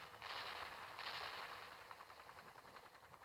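Bursts of rapid gunfire come from a player shooting in a video game. The rattling volleys are faint and sound distant, repeating in quick succession.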